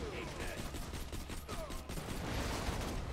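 Rapid gunfire in the video game Borderlands 2, a dense continuous burst of shots with a voice talking over it.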